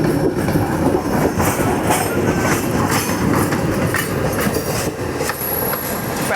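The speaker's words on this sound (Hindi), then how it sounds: "ये राइट साइड वाली लोकल आ रही है" Mumbai suburban local train arriving from the Karjat side at Kalyan Junction, heard from an express passing on a parallel track: loud rumbling wheels, rhythmic rail clatter and brief squeals, with no talking.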